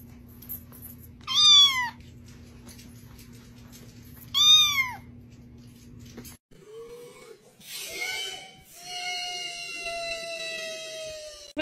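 A kitten meows twice in clear, rising-falling calls, followed by a brief rustle and a longer drawn-out meow near the end, all close and fairly loud over a low steady hum.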